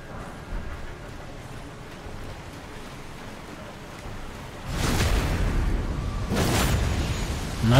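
A waterfall rushes in the video game Elden Ring, a continuous broad roar that swells louder partway through and stays close and full to the end.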